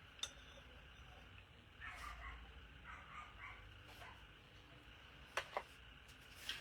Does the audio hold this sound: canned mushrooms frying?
no